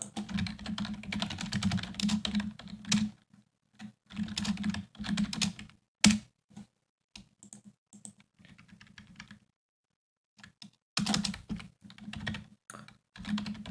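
Busy clicking of a computer keyboard as code is typed, close and clear, coming in quick bursts of keystrokes separated by short pauses and a longer gap near the end.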